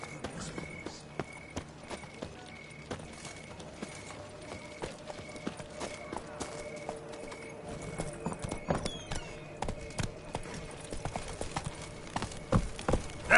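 Hooves of the horse Roach in The Witcher 3 clip-clopping at a steady walking rhythm, close and clear, growing louder and quicker near the end, with faint game ambience and a brief spoken line.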